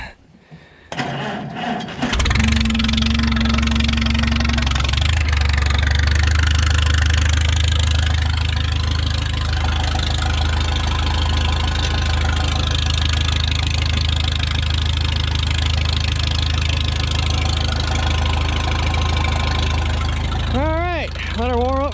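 A small engine on choke catches after a few sputtering cranks and settles into a loud, steady, slightly knocking idle that holds close and continuous to the end.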